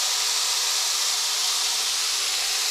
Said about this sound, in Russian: И оставляем дальше жарить на максимуме.